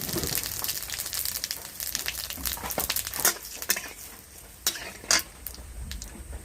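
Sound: frying whole cumin, bay leaves and dried chillies in oil

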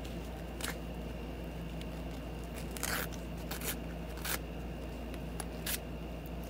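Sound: scissors slicing tear-away embroidery stabilizer

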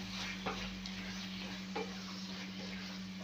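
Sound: prawns frying in masala

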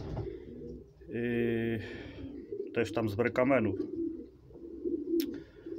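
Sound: pigeons cooing in a pigeon loft

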